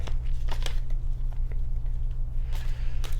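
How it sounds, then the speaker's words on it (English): Tarot cards are shuffled in short, papery rustling bursts, a few quick riffles spaced apart, heard close over a steady low electrical hum with no voices. "So I'm giving the cards a few shuffles here."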